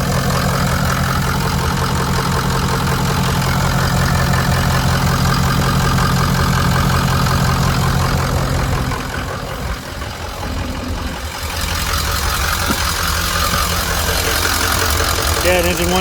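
A 2005 Ford 6.0L Powerstroke turbo diesel engine idles loudly and steadily with a low, knocking rumble, dipping briefly in the middle before resuming; a voice talks over it.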